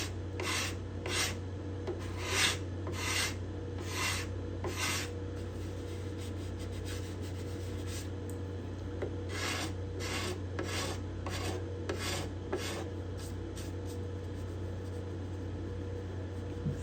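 Hand scraper drawn over the bindings and purflings of a cedar-top Desmond guitar: steady rhythmic rasping strokes, close and fairly quiet, repeating in even runs with a brief lull midway over a constant low hum.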